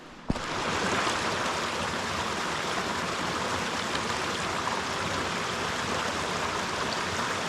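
A creek flows through McElvoy Canyon in Saline Valley, giving a steady, full rush of moving water that stays even and continuous from start to finish, with no voices.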